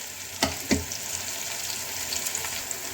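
Onions and green chillies fry in a pan, a steady close sizzle with two brief clatters of stirring near the start.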